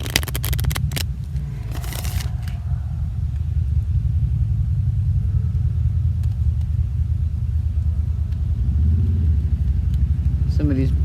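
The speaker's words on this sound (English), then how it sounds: "going for a motorcycle ride" Motorcycle ride heard as a continuous loud low engine rumble and road drone, steady throughout with a few scraping clicks early on, close and dominant.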